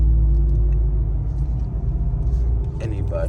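A Ram TRX pickup truck drives at night, its engine a steady, loud low rumble that fills the clip with continuous road noise and no pauses.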